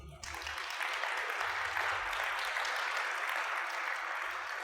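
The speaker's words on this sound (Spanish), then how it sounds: "Yo que tú ya le daba un aplauso a Dios." A church congregation breaks into applause during a Spanish-language sermon. The sustained clapping starts quickly and stays even and moderately loud for several seconds, with no talk over it.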